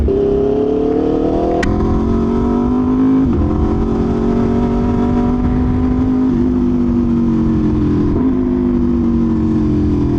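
A superbike motorcycle engine runs loud and close in a steady, buzzing drone, its pitch rising and settling slightly through several throttle changes, with no talking.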